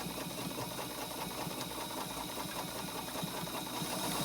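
A 1950s Toyota sewing machine runs a wide zigzag stitch with shortened stitch length, a steady mechanical hum with fast rhythmic clatter, close and continuous without talking.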